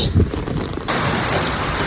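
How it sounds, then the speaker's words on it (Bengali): Steady rain pouring down during a storm with strong wind, a dense hiss that grows heavier partway through, with a low rumble underneath. "আবার বৃষ্টি শুরু হয়ে গেছে"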